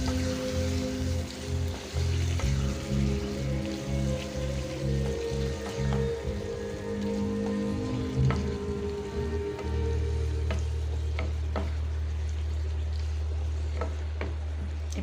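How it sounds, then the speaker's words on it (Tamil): Pre-cooked meat curry sizzles and fries in a pan with continuous crackling, stirred with intermittent scraping knocks, over a low steady hum and tonal background drone throughout. "இந்த கறி இதில் போட்டுடலாம் நல்லா இதில் ஃப்ரை பண்ணலாம்"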